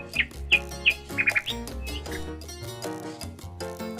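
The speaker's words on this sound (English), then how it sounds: "N for nightingale." A nightingale gives a few quick, bright chirps in a short burst, fairly faint, over gentle background music that keeps playing after the calls stop.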